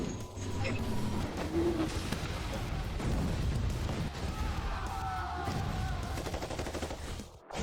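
Sniper gunfire in a doomsday drama, sharp shots and crashing impacts mixed into a dense, loud action soundtrack that runs without pause, with shouting voices partly buried underneath.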